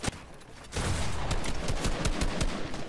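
Rapid gunshots in a competitive shooter video game crack out in a quick irregular series of sharp reports, fairly close and prominent with no talk over them.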